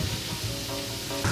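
Leek, salted and coated on both sides, sizzles steadily in a hot frying pan, a close, continuous crackling fry with a brief rise in intensity near the end and no talking.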